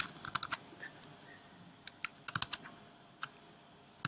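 Computer keyboard typing during code editing, in quick irregular bursts of clicky keystrokes with short pauses between, close and clear over a quiet room, with no talking.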